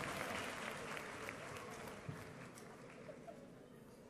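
A congregation at a religious gathering applauds and cheers in a dense, continuous wash of clapping that stays steady and moderately distant throughout, with faint crowd voices underneath.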